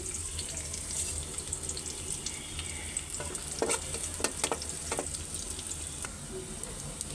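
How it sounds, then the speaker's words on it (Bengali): Garlic and panch phoron tempering sizzling in hot oil, a busy close crackle and hiss mixed with stirring scrapes and sharp clicks, running without talk. "এখন রসুন দিয়ে আর পাঁচফোড়ন দিয়ে বাগার দিয়ে দিব।"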